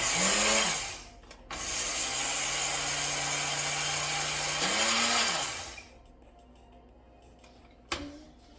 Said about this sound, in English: I'm going to blend the oats until it is powdery.